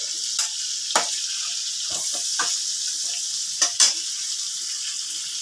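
Chopped onions go into a hot pan already holding cloves and mace for paneer butter masala, setting off a loud, steady hiss of frying with a few sharp scrapes and clinks of a spatula, no talking.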